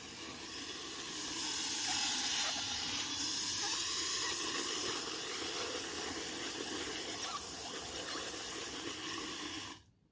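Steady rushing water pours continuously into a self-wicking container garden reservoir, a broad hissing flow that fills the space for about ten seconds before cutting off abruptly.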